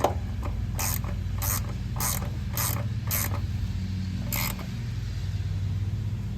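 Ratchet wrench tightens a door pin bushing on a 1988–98 Chevy truck door, a series of sharp close clicking pawl strokes in a steady rhythm, then a pause and one more stroke.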